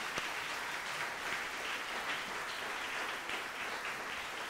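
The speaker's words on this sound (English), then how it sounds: "A round of applause for the parents and teachers." Applause from an audience at a film festival awards ceremony, honoring parents and teachers: a fairly faint, even wash of many hands clapping that holds steady throughout, with no voices.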